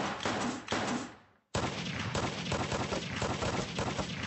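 Gunfire at a cartoon shooting range, an animated scene about a gun association and the first Gatling gun, comes as a dense, loud, continuous burst that breaks off briefly, then resumes steadily without pause.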